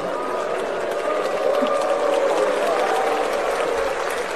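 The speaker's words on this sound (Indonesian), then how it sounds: "Ada yang tepuk tangan, tapi minoritas" Sparse applause in a parliament hall: scattered clapping from a minority of the room blends into a steady crowd murmur and hum, moderately loud and continuous for the whole stretch.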